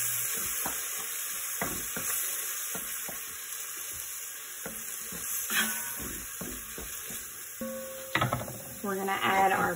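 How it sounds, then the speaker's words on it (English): Wine hits a hot pan while deglazing for a gnocchi beef stew, giving a steady sizzle with scattered stirring scrapes and clinks of utensil on pan, swelling louder near the end. "I just like the rich flavor of the wine, so deglaze the pan just a little bit"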